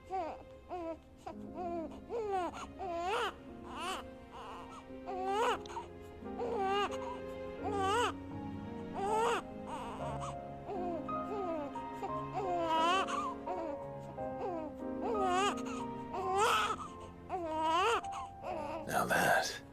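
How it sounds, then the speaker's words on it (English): A character in the Final Fantasy XVI video game crying in a drawn-out tantrum, repeated wailing sobs and whimpers rising and falling in pitch, close and loud, with occasional babbling sounds. "Now that was quite a tantrum."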